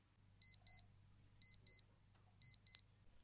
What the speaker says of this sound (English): this alarm is loud, and it was enough to wake me up every day